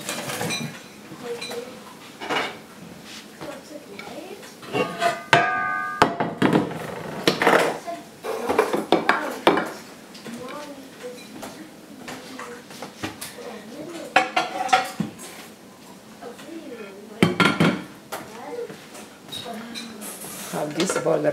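Dishes and pans clatter around a busy home kitchen, with scattered clinks and a bowl being handled, while people talk over it at moderate loudness.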